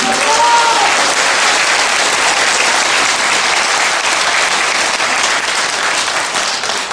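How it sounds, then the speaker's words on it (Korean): A crowd at a speech by a former defense minister breaks into loud, sustained applause, a dense and even roar of clapping lasting the full seven seconds, with a brief vocal tone at the very start. "여러분 이 사람들을 위해서 박수를 한번"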